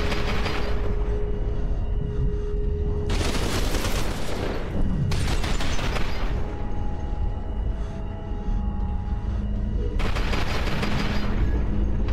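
Gunfire in the first-person shooter video game F.E.A.R. 2, dense bursts of shots and booms repeating over a steady loud combat backdrop, with several sharp clusters across the stretch.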